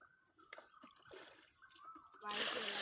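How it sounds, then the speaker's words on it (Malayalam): Water is poured onto banana plants in a farm field, ending in a sudden loud gush of splashing. Before it come quieter trickles and faint voices. "വാഴയ്ക്ക് വെള്ളം ഒഴിക്കുന്നതാണ്"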